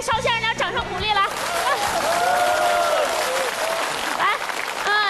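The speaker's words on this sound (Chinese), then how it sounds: "咱给邵先生点掌声鼓励" A studio audience on a television help show breaks into sustained applause after a brief spoken introduction, the clapping steady and fairly close for several seconds.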